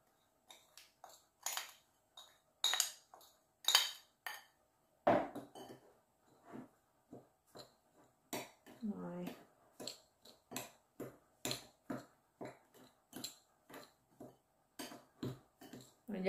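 A spoon taps and clinks in a small bowl as lemongrass, chili and garlic seasoning for dried fish is mixed, a quiet, close series of sharp clicks in an irregular rhythm.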